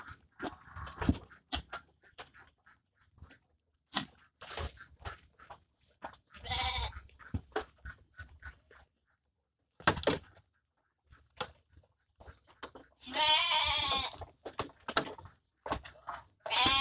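Several goats bleat in short, scattered calls, some close and loud, with quiet gaps and light shuffling between them.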